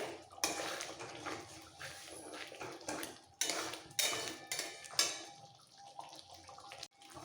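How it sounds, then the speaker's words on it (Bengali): Shahi paneer gravy with cashews and fried paneer in milk being stirred in a pan, a steady scraping and bubbling texture with repeated louder utensil knocks and scrapes close up, no talking. "আর কন্টিনিউ নাড়াতে হবে যেহেতু কাজু আছে নিচে লেগে যেতে পারে"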